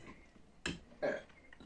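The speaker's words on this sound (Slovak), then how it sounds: "Už som si prvýkrát grgla." A woman's two short burps at a spaghetti bolognese dinner, a quick abrupt one followed by a slightly longer, louder one, close and otherwise quiet.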